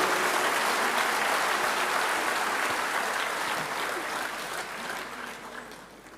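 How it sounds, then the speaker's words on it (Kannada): An audience at the Kannada Rajyotsava awards night applauds, a broad roaring wash of clapping from a large crowd that gradually fades over several seconds. "ಇಡೀ ಕರ್ನಾಟಕಕ್ಕೆ ಕೇಳಿಸುವಷ್ಟು ಜೋರಾಗಿ ಒಂದ್ಸತಿ ಚಪ್ಪಾಳೆ ತಟ್ಟಿ ಅವರೆಲ್ಲರಿಗೆ ತಾವು ಅಭಿನಂದನೆಗಳನ್ನು ಸಲ್ಲಿಸಬೇಕು"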